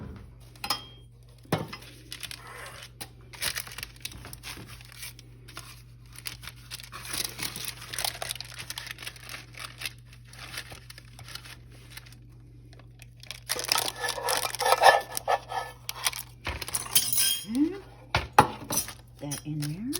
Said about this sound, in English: I'm going to get a nice spatula to lift this off with so that it doesn't break up